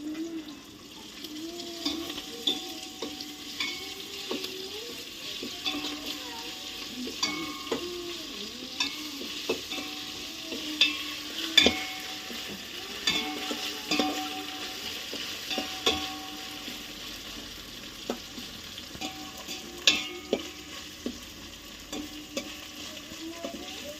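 Ginger paste fries in a pan for pulao made with ration rice, a steady sizzle broken by repeated scraping stirs of a spoon against the pan.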